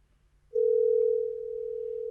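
A telephone dial tone while calling back a caller: a clean steady tone starts abruptly and holds loud and continuous, alone after a moment of near silence.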